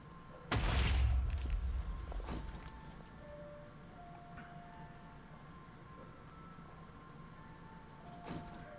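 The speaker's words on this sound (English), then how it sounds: "Because I keep hearing the explosions." A heavy booming blast in the Exoria Modpack video game erupts and rumbles away over a couple of seconds, followed by a quieter sharp crack and a faint late thud amid steady background hum.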